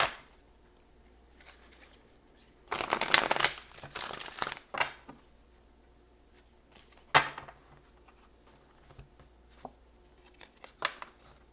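Tarot cards are handled and shuffled in a quiet room. A loud burst of riffling runs for about two seconds, then softer scattered flicks, taps and card snaps follow at intervals, with no talking.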